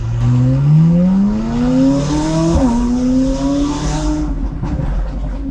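A McLaren 570S Spider sports car engine revs loud and close while driven gently, its pitch climbing steadily through the gears with a brief dip as it shifts, then fading slightly near the end.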